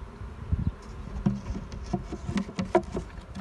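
Bees buzzing close around a drawer-style beehive, a busy irregular hum with sharp passing flybys and light tapping, steady and fairly loud with no voices.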